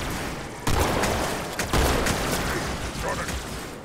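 Dense gunfire in the Halo 2 video game, a loud continuous barrage of overlapping shots with a brief gap and renewed bursts, mixed with indistinct voices.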